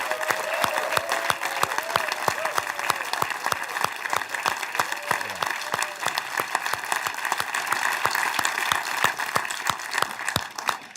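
An audience claps and cheers steadily, a dense, continuous patter of many hands close up and sustained throughout, welcoming a guest, Donna Halper, onto a stage.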